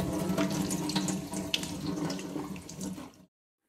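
Tap water runs steadily into a sink while a potimarron squash is washed, a close continuous splashing stream that cuts off abruptly near the end, with no voices.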